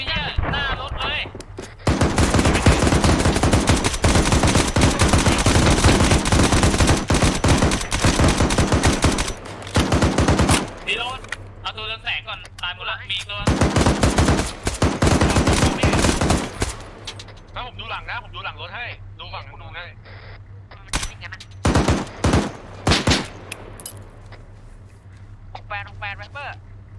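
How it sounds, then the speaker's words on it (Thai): Enemy gunfire in Arma 3 roars in long, loud automatic bursts, then breaks into shorter volleys and gaps, with players talking over the shooting. "มันยิงใส่เราอ่ะ"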